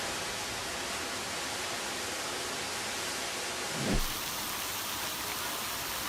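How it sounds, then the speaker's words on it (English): Heavy rain pouring down during Typhoon Yagi, a steady dense wash of noise that holds evenly throughout, with a brief low thump partway through. "The rain keeps pouring down"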